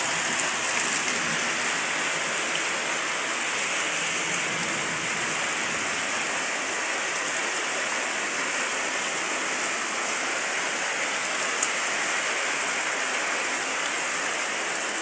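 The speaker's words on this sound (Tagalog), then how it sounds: "Sobrang lakas ng ulan." Heavy rain pours down in a dense, constant roar of water, loud and unbroken throughout.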